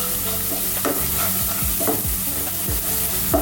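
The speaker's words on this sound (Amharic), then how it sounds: "ከዛ ይሄንን በደንብ አብረን እንጠብሳለን።" Onion and garlic fry and sizzle steadily in a pan for an Ethiopian beef alicha stew, with repeated scraping stir strokes and clinks of the spoon in an uneven rhythm, close and fairly loud.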